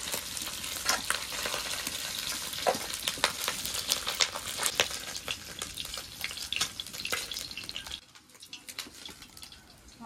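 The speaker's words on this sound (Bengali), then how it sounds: "মাছের মাথাগুলো ভাজা হয়ে গেছে, এবার নামিয়ে নেব।" Fish heads frying in hot oil, a dense close sizzle and crackle with stirring clatter, cutting off abruptly near the end to a quieter hiss.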